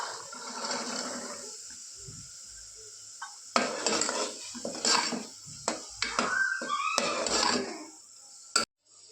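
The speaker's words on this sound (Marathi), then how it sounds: "वाटाणे घालून ते मसाल्यात फिरवून घेतले." Peas being stirred into spices in a cooking pan for matar pulao, with a utensil scraping and clinking against the metal at an irregular pace, close and fairly loud, with faint sizzling between the strokes.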